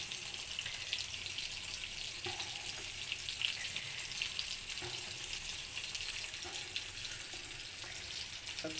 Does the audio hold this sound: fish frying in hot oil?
yes